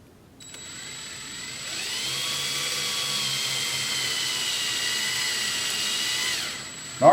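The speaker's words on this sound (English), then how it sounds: "so that your drill bit doesn't wander on you" A power drill whirs up to speed and holds a steady, high-pitched whine for several seconds as it bores into soft aluminum, then winds down with a click.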